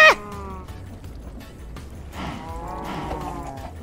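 Cow mooing in the video game Minecraft: a short harmonic moo at the start, then a longer drawn-out moo a couple of seconds later, both close and clear over a quiet game background.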